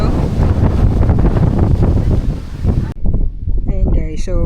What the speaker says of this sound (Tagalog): Ang ganda ng view dito sa Agbalogho, Aklan. At sobrang mahangin.